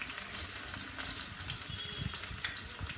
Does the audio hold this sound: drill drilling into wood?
no